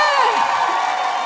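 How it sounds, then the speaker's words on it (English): A crowd cheers, whoops and shouts loudly at a cosplay championship, a dense, sustained wash of excited voices with possible clapping mixed underneath. "So please send her off with a big round of applause,"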